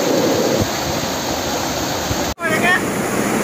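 Fast-flowing river water rushes loudly and steadily near rock-climbing spots at Kakkadav, a broad continuous roar that cuts out abruptly for a moment before resuming.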